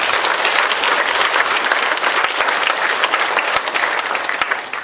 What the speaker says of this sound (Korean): 박수 한번 쳐요